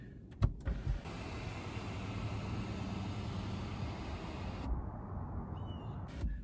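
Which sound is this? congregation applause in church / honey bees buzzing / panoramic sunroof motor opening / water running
panoramic sunroof motor opening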